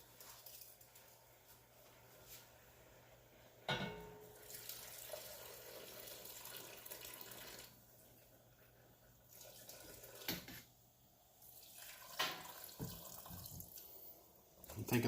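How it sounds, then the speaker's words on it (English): Beef broth poured into a pot over a roast, a steady liquid gush running most of the way with brief breaks and a few louder splashes, close by and fairly quiet. "And then our beef broth. And we're going to cover about 3/4 of a way up"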